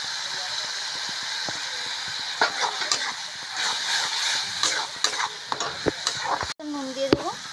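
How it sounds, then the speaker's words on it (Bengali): Spices with cumin powder frying and being stirred in a pan, a continuous sizzle broken by repeated scraping and clinking strokes of the spoon, with a brief bit of talk near the end. "মশলাগুলোকে ভালো করে কষিয়ে নেব"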